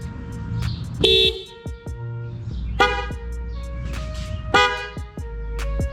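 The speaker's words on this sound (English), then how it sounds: "Now let's hear how the horns sound. Here's the difference between the old and the new." A 9th-generation Honda Accord sounds its old stock horn and its upgraded new horn in turn: a series of short, loud, close toots and honks, with a low engine idle in the background.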